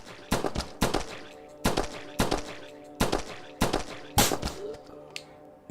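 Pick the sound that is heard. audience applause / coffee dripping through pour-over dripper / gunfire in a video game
gunfire in a video game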